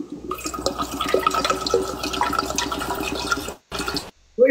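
Water pours steadily into a container for several seconds, a continuous splashing fill that stops abruptly, followed by brief quiet and a short clatter.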